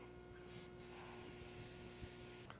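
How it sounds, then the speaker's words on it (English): Cooking spray hisses in one steady burst of about two seconds onto vegetables in a grill basket, close and fairly loud over a low background hum. "I'm going to put this in here with a little spray"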